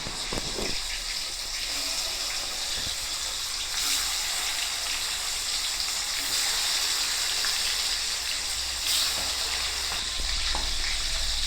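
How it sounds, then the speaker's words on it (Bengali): Chicken pieces frying in oil, a continuous close bubbling sizzle with a few clinks of a utensil, steady in level and without speech. "সবকটা চিকেন আমার ভেজে নেওয়া হয়ে গেছে।"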